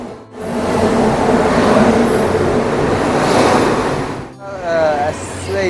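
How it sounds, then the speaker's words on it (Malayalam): A special passenger train rolls into a station platform in Kollam, a broad continuous rumble and hiss lasting several seconds before a short break, with a voice speaking over the end. "അപ്പോൾ നമ്മുടെ സ്പെഷ്യൽ ട്രെയിൻ ഇതാ വന്നുകൊണ്ടിരിക്കുന്നുണ്ട്."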